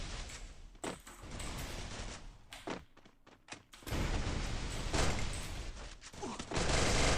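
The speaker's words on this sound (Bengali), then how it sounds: "MP40 দিয়ে ডাবল হেডশট লেগেছিল।" MP40 submachine gun fire in a Free Fire Clash Squad match comes as several fairly quiet, sharp bursts spaced apart, set among low game ambience and thuds.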